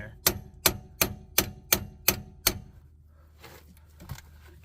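Seven sharp, evenly spaced metallic hammer blows drive a fork into a car's outer tie rod joint, loud and close, then stop, leaving faint shop noise and shuffling.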